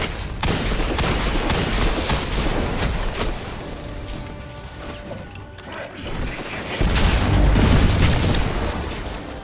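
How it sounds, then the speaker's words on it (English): A grenade explodes in Destiny 2 with a loud, dense blast of broadband crackle and rumble. It fades a little, then a second heavy burst of booming noise swells in the last few seconds. "Yeah, that nade worked good."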